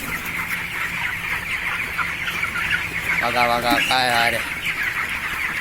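English-breed chickens clucking close by in a busy yard, with a louder burst of clucks near the middle as a person speaks briefly.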